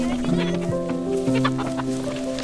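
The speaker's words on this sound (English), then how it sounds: "I got this chicken. He's called a rooster." A rooster clucks in a steady run of throaty, tonal calls, close and loud, with overlapping clucks from other fowl around it.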